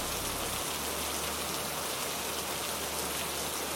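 Steady, dense rain pours down in an animated Hindi moral story set in a village, a continuous loud hiss of drops on surfaces with a low hum underneath and no talking.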